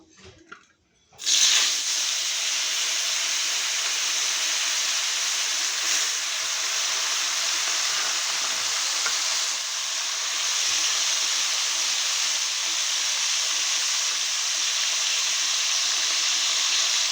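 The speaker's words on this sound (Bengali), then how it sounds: "এখন আমি গরম তেলের উপর মাছটা দিয়ে দেবো আর পুরো মাছটা ছেড়ে যাবে আস্তে আস্তে" Morola fish dropped into hot oil: after a quiet moment a loud, steady, hissing sizzle bursts up and holds evenly throughout, close and with no talking.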